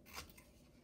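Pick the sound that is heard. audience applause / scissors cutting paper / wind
scissors cutting paper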